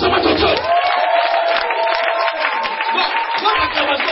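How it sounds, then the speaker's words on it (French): A church congregation acclaims during a sermon with loud, close applause and shouting, sustained cries and whoops over scattered clapping. "C'est-à-dire, c'est applaudir et avec des cris"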